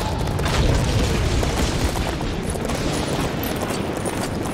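Booming explosions and scattered blaster fire as a starfighter attacks in the Lego Star Wars: The Skywalker Saga video game, a dense, continuous wash of blasts at steady loudness throughout.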